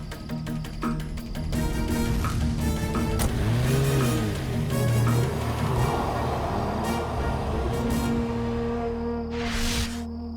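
An expensive car's engine hums and revs at night, a loud sustained drone with rising and falling pitch, mixed with music and a steady background chorus.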